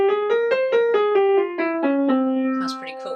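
A Phrygian dominant scale, harmonic minor started from its fifth, on a piano-like instrument: about nine evenly spaced notes stepping downward to a held low note, followed by a faint brief noise at the end.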